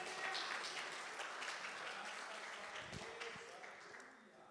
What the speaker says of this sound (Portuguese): Bate uma salva de palmas bem forte para Jesus.